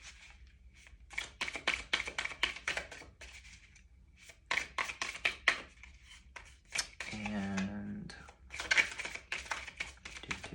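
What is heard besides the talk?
shuffling oracle cards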